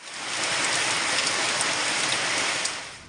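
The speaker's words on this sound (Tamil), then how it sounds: "பலத்த காற்றுடன் கனமழை பெய்தது" Heavy rain driven by strong wind, a dense steady roar of downpour that swells in and holds loud throughout, with no voices.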